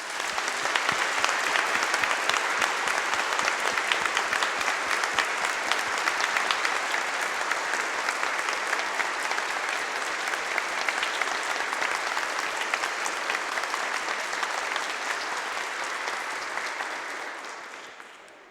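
A church congregation applauds steadily for about eighteen seconds at a parish's 110th-anniversary Mass, the dense clapping sustained throughout before tapering off at the very end.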